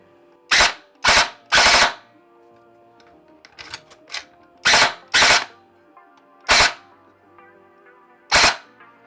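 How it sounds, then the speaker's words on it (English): An airsoft gun is test-fired after its gearbox has been reassembled, giving short sharp bursts of rapid clicking shots, single pops and quick doubles spaced across several seconds, with small mechanical clicks between bursts. "let's just make sure the gun still works"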